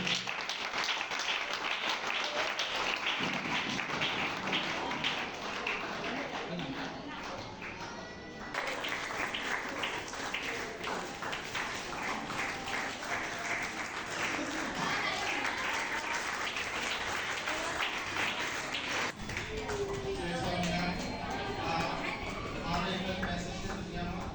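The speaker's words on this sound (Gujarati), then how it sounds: "એની મમ્મી માટે ખાસ તાળી દેવી છે" Sustained audience applause at a ceremony where twelve disabled children are taken into care, loud dense clapping filling the room for over twenty seconds with brief dips and a shift near the end.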